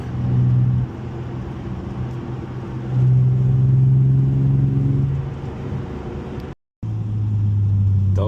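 A Volkswagen GTI engine hums steadily close by, its tone rising and falling as it accelerates and eases off, with a brief dropout before the drone resumes.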